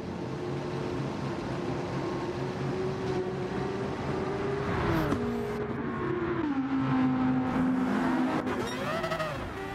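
Mazda 787B race car in Gran Turismo 7, its engine droning at sustained high revs with a steady pitch that dips on gear changes and climbs again, loud and continuous with no talking.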